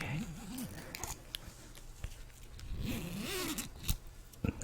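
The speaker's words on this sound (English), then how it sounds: "the next trigger is gonna be the sound that you make when you zip your jacket" A jacket zipper is pulled up and down several times in quick scratchy runs, close and quiet, with soft handling noises between strokes.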